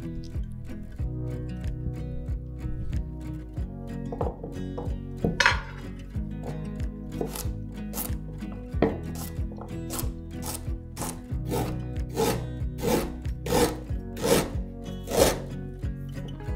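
Garlic and ginger being coarsely sliced with a knife on a board, a regular series of crisp chopping taps that speeds up toward the end, over soft background music.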